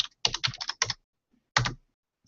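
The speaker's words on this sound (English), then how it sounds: "Let me actually type it down." Keystrokes on a computer keyboard arrive in a quick burst of several clicks, a short pause, then one more isolated tap, close and crisp in an otherwise quiet room.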